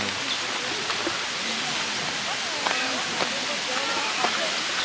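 Rushing water at Buatong waterfall in Thailand fills the scene with a steady, broad wash of noise, while voices speak faintly over it.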